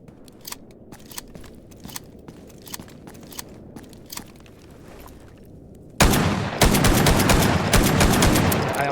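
Gunfire in the STALKER Gamma game, first sparse sharp clicks and small impacts, then a sudden loud, dense burst of rapid automatic shots filling the last few seconds with no talking.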